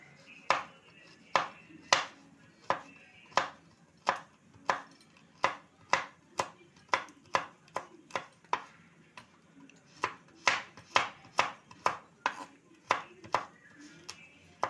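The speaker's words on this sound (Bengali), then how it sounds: "কাজু আর আমন্ড বাদামটা আমি একটু কেটে নেব ছোট ছোট টুকরো করে" A knife chops cashews and almonds into small pieces on a board, striking in a steady run of sharp, close taps with brief pauses between bursts.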